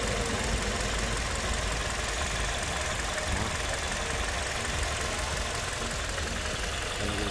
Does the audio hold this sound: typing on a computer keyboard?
no